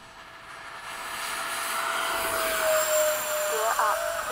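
A Freewing 80mm MiG-21 RC jet takes off at dusk, its electric ducted-fan whine building steadily and rising in pitch into a loud, sustained rush, with a faint voice in the background.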